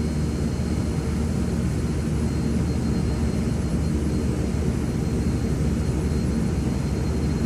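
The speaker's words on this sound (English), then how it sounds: "Right engine back to low idle." Steady, even drone of a King Air 350 turboprop engine at low idle in a flight simulator, a constant low hum and whir that does not vary and has no talk over it.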